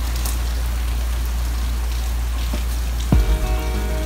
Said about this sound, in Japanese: 雨の音しかせんぞ